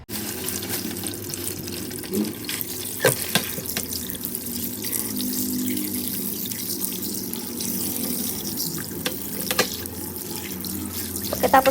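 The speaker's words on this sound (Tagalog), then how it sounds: "huhugasan ko naman tong laman loob ng baka" Beef innards being washed under a running kitchen tap, a steady stream splashing into a sink with occasional drips and handling clatter, close and continuous throughout.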